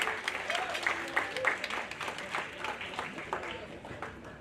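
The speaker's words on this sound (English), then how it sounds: "So one more round of applause for my wonderful." At a university athletics awards banquet, an audience gives scattered, moderately loud applause with distinct individual claps, while voices murmur and talk underneath.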